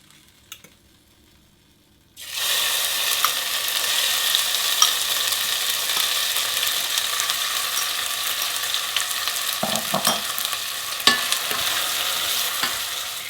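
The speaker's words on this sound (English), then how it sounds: "we are going to fry this sambal until the color changes into a deeper red or a darker color" Sambal laksa paste for Nyonya laksa lemak frying and being stirred in a heated pot: a steady, loud sizzle starts abruptly after a short quiet moment and continues throughout, with occasional scraping knocks of the stirring utensil.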